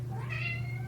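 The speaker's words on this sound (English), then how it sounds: "Got a kitty over here wanting to leave." A pet cat named Sugar gives a single short meow, fairly faint and a little distant, over a steady low background hum.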